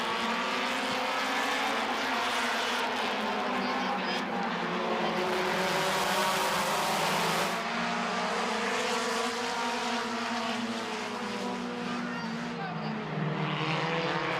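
Race cars lap Midvale Speedway in a heat race, their loud, continuous engine roar swelling and fading as the field passes, with commentary running over the top.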